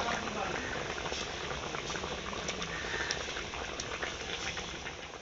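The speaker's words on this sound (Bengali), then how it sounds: "ঝোল ফুটে গেছে।" Fish curry gravy with cauliflower and potato bubbling steadily in a pot over a wood-fired clay stove, a dense continuous simmering hiss and patter close by, with no talking.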